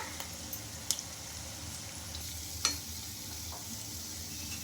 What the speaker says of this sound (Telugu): బాగా కలర్ వచ్చే వరకు ఫ్రై చేసుకోవాలండి అటు ఇటు తిప్పుకుంటూ